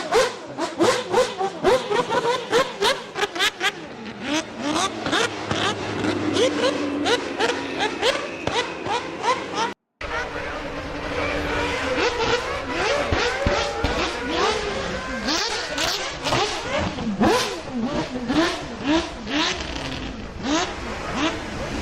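A Mazda 787B race car engine played back from a recording, a loud, continuous high-pitched rotary wail rising and falling through rapid revs and gear changes, with a brief dropout partway through.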